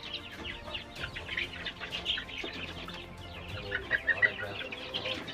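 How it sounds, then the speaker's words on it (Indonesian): Native Indonesian kampung chickens in an old coop cluck in a continual, irregular chorus of short calls, some close and fairly loud, with no talking over them. "Ini ayam kampung asli."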